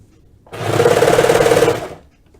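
A serger sewing machine runs through thick sweater fabric in one loud, fast, even burst of stitching lasting about a second and a half, starting and stopping abruptly, close up with no talk.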